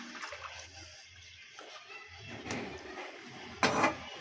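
Kashmiri tea with almonds is poured into a cup in a home kitchen, a faint liquid splash with a brighter burst of pouring near the end, close by and with no talk.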